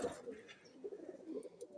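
A pigeon, high-flying Giribaz or racer, cooing softly in low throaty bursts, faint and close with quiet handling noise around it.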